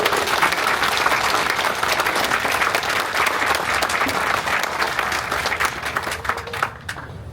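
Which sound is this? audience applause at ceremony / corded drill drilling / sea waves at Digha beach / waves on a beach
audience applause at ceremony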